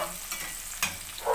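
Cabbage goes into a pan already holding cooked corn, meat and potatoes, with a soft sizzle and stirring scrapes throughout and a sharper clatter near the middle, close and fairly quiet.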